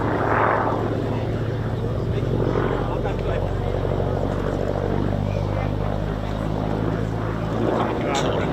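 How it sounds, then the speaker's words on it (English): A Let Yakovlev C-11 with a Russian radial engine flies past at the East Kirkby airshow, its droning, throbbing propeller rising and falling as it passes, fairly loud, with a commentator's voice over it. "From Russian radials, we have the Let Yakovlev C-11."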